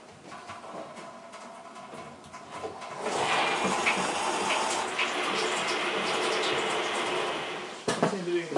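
Water rushes steadily into an electric hot water heater tank, starting quieter and swelling into a loud, continuous hiss and gurgle about halfway through.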